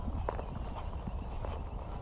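A big draft horse's hooves clip-clop in a few soft, irregular steps on the ground beneath a steady outdoor rumble, fairly close but not loud.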